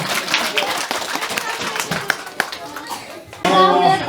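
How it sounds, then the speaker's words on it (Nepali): A church congregation at a Christmas service clapping to welcome a local leader, a lively mix of many hands applauding with children's voices mixed in, fading before a speaker's voice takes over at the end. "उहाँलाई सबैले ताली बजाएर स्वागत गरिदिनु हुन अनुरोध गर्दछु"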